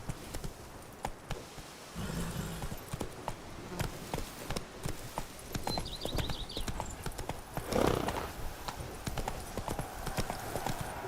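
The horse Roach gallops in The Witcher 3: Blood and Wine, a fast, rhythmic clip-clop of hooves close by, with a brief whinny and faint insect buzz in the background.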